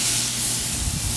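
Thin-cut porterhouse steaks hitting a hot grill, a loud, close, continuous sizzling hiss lasting only a moment, with no talking.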